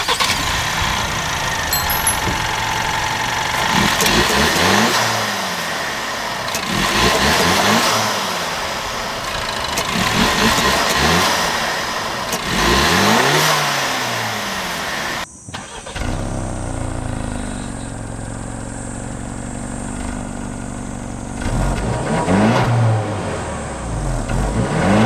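A Ford Explorer 2.3 EcoBoost SUV with a 2.3-litre single-turbo gasoline engine revs repeatedly in several rising and falling sweeps, then settles to a steadier drone with a few more revs. No one talks.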